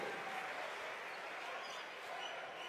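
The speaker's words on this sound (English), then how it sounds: "The volume of the crowd went up a level." Crowd noise fills an arena at a Israel v Great Britain FIBA Basketball World Cup 2019 European qualifier, a steady, broad roar of cheering and clapping heard from a distance, with no clear rise in level across the short stretch.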